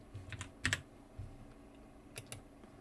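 Typing on a computer keyboard while pressing the Hanja key: a few quiet, close key clicks come in small clusters, with a sharper tap near the middle.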